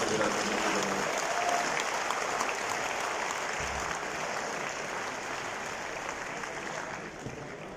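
An audience at an Urdu poetry recital breaks into sustained, dense applause that keeps steady for the full span and eases off only slightly at the end, with no voices on top.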